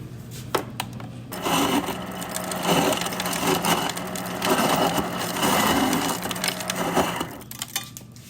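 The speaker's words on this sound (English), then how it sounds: "fill this up with some crushed ice from the refrigerator" Crushed ice rattles and crunches steadily for several seconds as it is poured into a cocktail glass, a dense close-up clatter with no talking.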